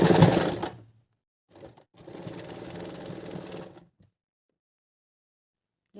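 A sewing machine stitches a sleeve with a lengthened stitch setting, running in short bursts with a brief run, then a longer steady whirr of about two seconds, and pauses in between.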